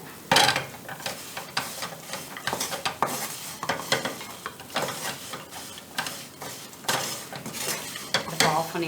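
Wheat flour biscuit mixture is stirred in a pan with the heat switched off, making a continuous gritty scraping with rhythmic strokes and faint sizzling, close and fairly loud throughout.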